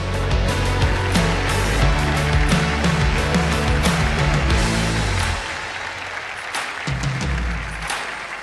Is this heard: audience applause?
yes